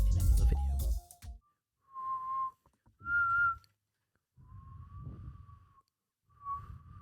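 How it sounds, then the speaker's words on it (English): A short burst of noise, then several wavering whistled notes with pauses between them, close and fairly soft. "I really cannot whistle. Genuinely cannot whistle."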